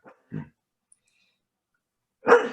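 An excited dog gives a couple of short, close yips, then a louder bark after a pause, with silence in between.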